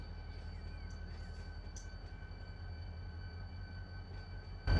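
Locomotives in the Run 8 train simulator game, in the LAJ switching district, idle with a steady low rumble and faint whine. A short loud thump comes at the very end.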